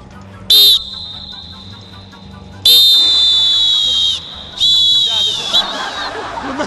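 A game show host blows a whistle three times on a TV quiz set: a short shrill blast, a long sustained one, then a medium blast, loud and close over faint background room noise.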